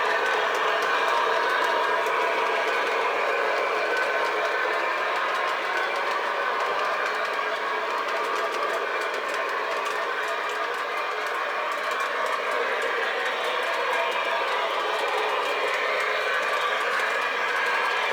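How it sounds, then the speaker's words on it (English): A custom Milwaukee Road 4-6-0 Ten Wheeler model train arrives with a continuous, even rolling clatter and rumble that holds steady for about eighteen seconds, with no talk. "Dispatcher, train is arriving."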